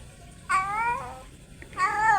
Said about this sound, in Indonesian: Tapi sepertinya kucing Oyen ini tidak benci sama kucing baru ini